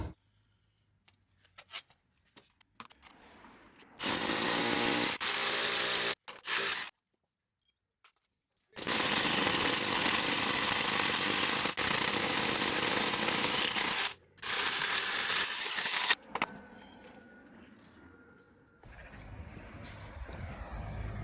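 A power drill bores a cable hole through a wall in two long, loud grinding bursts, with shorter stops and starts between them and faint handling noise at the beginning and end.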